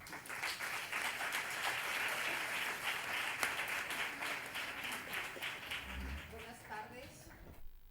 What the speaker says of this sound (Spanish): i un fort aplaudiment per l'Olga